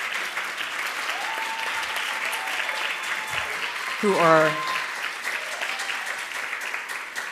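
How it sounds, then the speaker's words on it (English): An event audience applauds volunteers for an animal welfare organization, with steady clapping throughout and a short spoken phrase partway through. "please stand up and let's everyone applaud these people"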